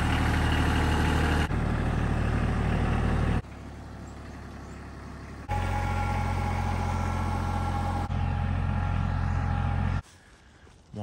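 A tractor engine runs at an off-grid cabin build in the woods, a steady low diesel drone that cuts between louder close passages and quieter, more distant stretches.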